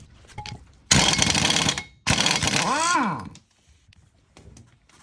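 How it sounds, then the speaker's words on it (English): A pneumatic impact wrench removes a wheel from a Porsche, two loud close bursts of rattling hammering about a second each, the second winding down with a falling whine, followed by quieter clanks. "I decided to give Alex some pneumatic power to get the other wheel off"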